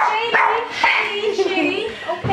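A Chihuahua named Shady whimpering and yipping during a Boxing Day family gathering at home, several short high whines and sharp little barks close by, mixed with people talking.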